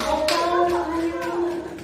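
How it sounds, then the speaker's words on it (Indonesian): Classroom students clap for a classmate during a quiz. Scattered, quick hand claps come in a couple of bursts while a sustained tone and some murmuring voices carry on underneath. "Tepuk tangan untuk Ibnu terlebih dahulu."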